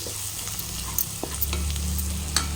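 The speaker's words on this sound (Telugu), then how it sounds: "పసుపు అంతా కలిసేలా కలిపేసుకున్నాం" Turmeric being stirred into a sizzling curry base in oil, with steady frying hiss and a few soft spoon scrapes against the pan, close and without talk.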